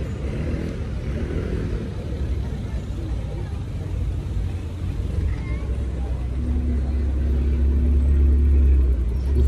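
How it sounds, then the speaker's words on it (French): Ferrari sports cars, including a 458 Spider, rumble at a car meet on Place Vauban, a deep continuous engine drone that swells louder toward the end, with a steady idling tone emerging, while people talk nearby. "Sinon, ben, encore des Ferrari. Toujours des Ferrari."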